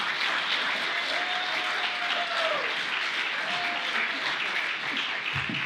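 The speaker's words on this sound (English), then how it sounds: "give him a round of applause" Steady, dense applause fills the room from a gala audience at a masquerade fundraiser, a continuous wash of many hands clapping at even loudness, with a faint voice briefly audible beneath it.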